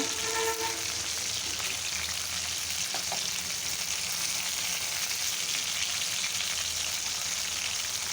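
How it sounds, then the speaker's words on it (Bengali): Food coated in gram flour batter fries slowly in hot oil, giving a constant, dense sizzle that stays loud and unbroken from start to finish, with no voices. "মশমশা করে আস্তে আস্তে ভাজতে হবে"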